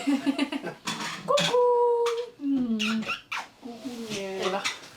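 A dog whimpers and squeaks in high, drawn-out whines behind someone talking, fussing on and off throughout.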